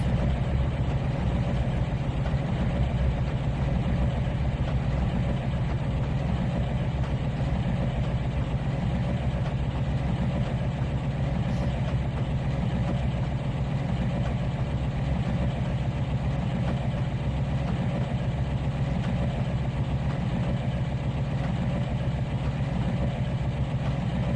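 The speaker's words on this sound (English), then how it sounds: "Hear those other engines in there because you can't shut them off." A steady low engine rumble idles continuously without change, layered droning of several train engines in the video game Trainz 2019, no voices.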